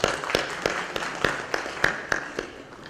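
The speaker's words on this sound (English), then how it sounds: "So big applause to our India team for that." Audience applause for an India team at a corporate industry talk, heard as a steady wash of many hands clapping with sharper individual claps standing out every few tenths of a second, moderately distant, with no talk over it.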